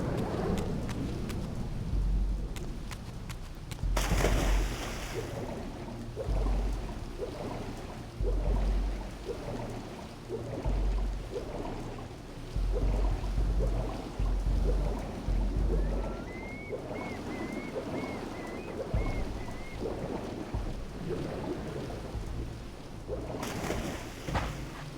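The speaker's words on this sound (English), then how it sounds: "Look, now it's all rainy and decayed." Rain falls in a Raziel video game scene, a continuous wash of rainfall with low rumbling swells like distant thunder rolling through, loud and unbroken for the whole stretch.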